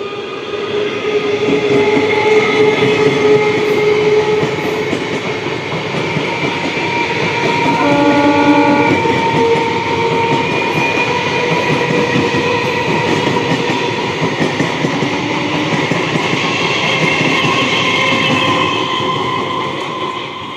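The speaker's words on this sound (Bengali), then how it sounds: "এই ট্রেনটাও 12 বগির ট্রেন" A 12-coach Sealdah local train rumbles past steadily for the whole stretch, loud and close, with continuous wheel-on-rail roar and a brief horn-like tone midway.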